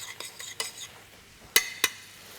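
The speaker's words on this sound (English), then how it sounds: "Then I give my dill, rice and beans a good stir" Dill, rice and beans stirred in a metal pot, with a spoon giving several light scrapes and then two sharp clinks against the rim, close and alone.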